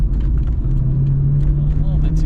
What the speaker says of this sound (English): A little bit too much on that downshift there.